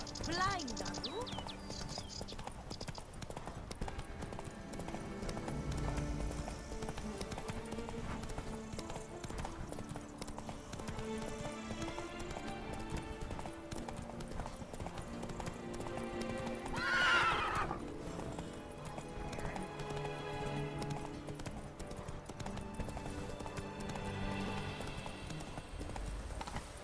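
A horse in The Witcher 3 gallops with a steady, rolling clip-clop of hooves, then lets out one loud whinny partway through, while a voice talks over the hoofbeats.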